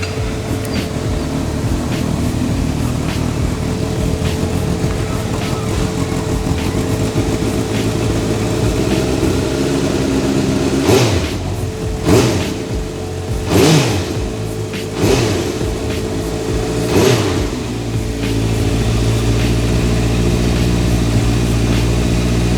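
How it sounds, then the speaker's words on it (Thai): A 2018 Honda CB650F with an aftermarket Mugen exhaust idles with a deep, throaty rumble, then gets several quick throttle blips that rise sharply and fall back to a steady idle. "เดี๋ยวเรามาฟังเสียงพ่อของเจ้าโมเกนคันนี้เลยดีกว่า"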